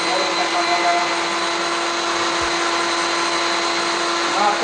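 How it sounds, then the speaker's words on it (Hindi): A homemade mixer grinder whirs steadily while blending a shake, its loud motor drone holding an even pitch without a break from start to finish. "आप देख सकते हैं कि हमारा मिक्सर ग्राइंडर अच्छे से शेक बना रहा है"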